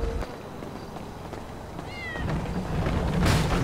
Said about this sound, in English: I heard a kitty cat.